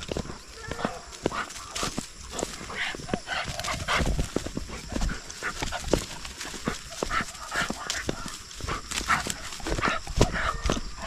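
A large, fat neutered dog moves and pants nearby amid steady rustling and scuffling, with people talking over it; no clear barking stands out.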